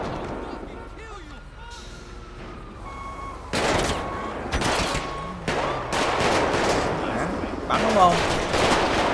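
Bursts of gunfire ring out in the video game GTA 5 at a lavish wedding scene, with several loud volleys and sharp shots coming in clusters while someone talks excitedly over them.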